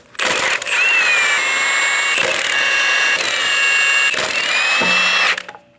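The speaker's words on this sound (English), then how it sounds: "remove all 5 lug nuts" A power tool fitted with a 22mm socket spins lug nuts off the front wheel of a 2011 or later Dodge Durango, several loud whirring bursts in quick succession with short gaps, close and steady, no talking.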